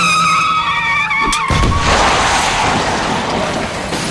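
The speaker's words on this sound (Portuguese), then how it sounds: "Eu me assustei e taquei o pé no freio." A car's tyres skidding under hard emergency braking after a blowout: a high tonal squeal gives way to a loud, broad scraping skid with a thud, close and intense throughout.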